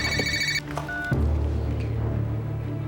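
A telephone rings in a domestic drama scene, a bright electronic ring sounding clearly for about half a second, then stopping and giving way to a low rumbling background.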